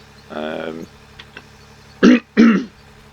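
A man clearing his throat with a drawn-out rasp, then two sharp, loud coughs close to the microphone over a low background hum.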